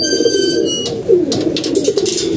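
Pigeons cooing close by in a loft, soft rolling coos repeating over a faint high whine, loud and clear with no talking.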